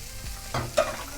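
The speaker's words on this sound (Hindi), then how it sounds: "चिकन डाल के हम इसको अच्छे से मिक्स कर लेंगे।" Chicken pieces stirred and fried in a masala in a pan, with a soft sizzle and a couple of scraping stirs of a spoon, heard close with no talking.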